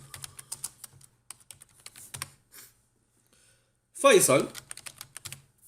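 Computer keyboard typing while coding JavaScript, rapid close clicks in short bursts with brief pauses, a voice speaking over part of it.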